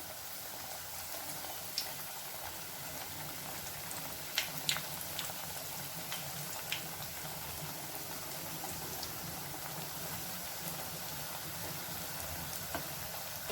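Layered sweet puri made from wheat flour fries in oil with a faint, steady bubbling hiss and a few soft pops and crackles scattered throughout, and no one speaks.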